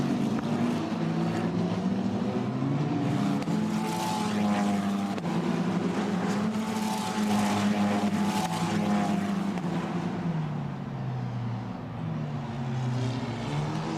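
Formula Renault Eurocup race cars at Spa-Francorchamps drive through the corners, their engines a sustained droning whine that rises and falls in pitch as they pass, heard from a distance with no talk.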